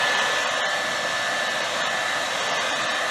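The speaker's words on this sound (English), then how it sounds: "I've got my blow dryer out." Hair dryer blowing steadily to dry camo paint on a Hi-Point 995TS 9mm carbine, a loud continuous whooshing airflow with a faint high motor whine, no talk.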